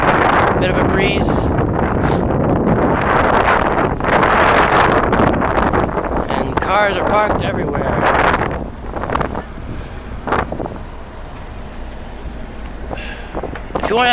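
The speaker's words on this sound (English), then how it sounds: "Mind the wind, it's a little bit windy" Strong wind buffets the microphone in heavy gusts at a train station, easing after a while, while a person talks over it.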